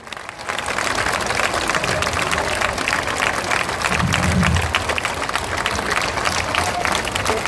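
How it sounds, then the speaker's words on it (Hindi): A large outdoor crowd at a Jan Suraaj political rally in Aurangabad claps loudly and continuously, sustained dense applause with a brief low rumble in the middle. "ताली, जोर से ताली बजाइए"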